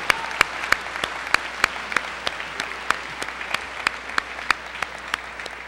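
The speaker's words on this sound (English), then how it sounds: "Let's give them a round of applause." An audience at a high school senior celebration gives a sustained round of applause, with steady clapping and a few sharper, closer claps standing out above the crowd.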